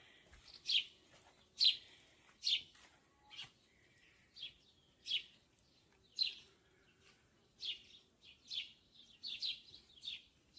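Outdoor bird calls sound in short, sharp chirps spaced a second or two apart, with hens nearby on a hot day, fairly close against quiet background.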